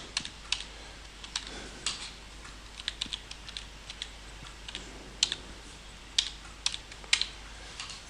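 A card number is typed on a computer keyboard for a fuel management system, a run of quiet, irregular key clicks in small bursts over a faint room hiss.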